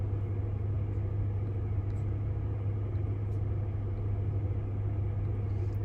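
Steady low rumble of a car being driven, a constant engine and road drone running evenly throughout with no voices.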